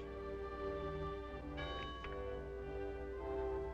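A church bell tolls on a Sunday morning in a small country town, rich ringing strikes with long humming overtones sounding beneath a steady orchestral music bed, moderately faint and without speech.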